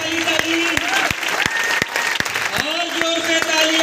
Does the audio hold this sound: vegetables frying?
no